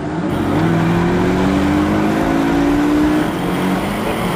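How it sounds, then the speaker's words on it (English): A 2016 Porsche 718 Boxster's four-cylinder engine with the sport exhaust switched on accelerates on the road: a loud, continuous, close-up drone whose pitch climbs slowly and steadily. "noisy exhaust button on, and already this little four pot makes a beautiful noise"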